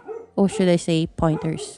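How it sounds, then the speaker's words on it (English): A pet dog barks and yips in the background of a home, a few light yaps faint under a person speaking steadily close to the microphone. "And if you can hear my dog in the background,"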